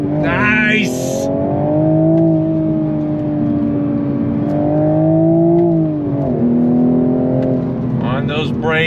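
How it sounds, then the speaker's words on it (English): A 2024 Toyota Supra 3.0 with manual transmission in sport mode accelerates hard on throttle, its engine note rising steadily through a long pull before a brief dip at a shift, then climbing again, loud and close. "I have it in sport mode, manual transmission. Here we go, on throttle."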